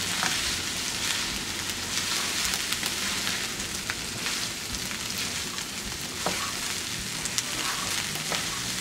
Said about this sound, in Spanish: Mire, ahora vamos a sofreír bien el arroz.